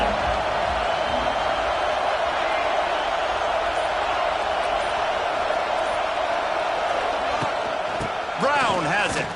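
A college football stadium crowd roars in a steady, dense wash of noise throughout, loud and continuous, with a brief whistle-like sweep near the end.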